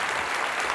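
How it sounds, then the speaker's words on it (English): Audience applause at a university State of the University address: dense, steady clapping from a large crowd, loud and continuous through the short moment with no voices over it. "let's give all of you a round of applause"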